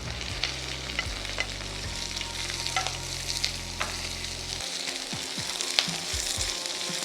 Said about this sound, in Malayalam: ഇതൊന്ന് പെട്ടെന്ന് വഴറ്റിയെടുക്കാം.